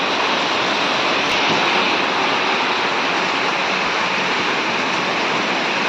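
Heavy rain pours down in a dense, continuous hiss, loud and close, with no break in intensity and no voices.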